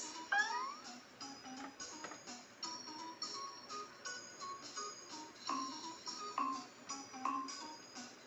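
A toddler's animal sound toy plays electronic cat meows, several repeated tinny mews with bright, tonal chimes around them, heard close and fairly quiet.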